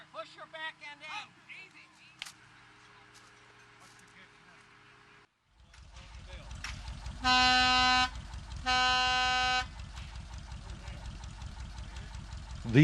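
A Gypsy Express miniature train engine starts and runs on new track, a low rumbling engine with two loud sustained horn blasts over it, after some earlier clatter and voices.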